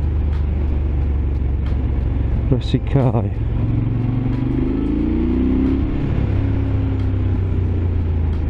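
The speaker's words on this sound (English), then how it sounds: "Big thumping growling engine." Big supermoto motorcycle engine thumping and growling at steady volume under a low, continuous rumble, with a brief burst of talk partway through.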